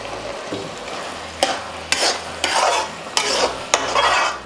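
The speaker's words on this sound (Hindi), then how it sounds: "मावे के साथ इसको ऐसे ही पकाएंगे" Papaya halwa with mawa cooks in a pan while a spoon stirs it, making loud repeated scraping strokes about every half second to second over a low sizzle, with no talking.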